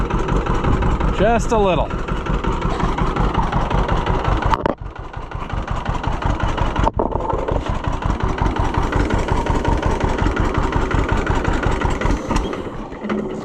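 A two-cylinder engine runs after a choked start, a loud steady chugging idle with a brief dip midway, close up, while a person speaks briefly over it.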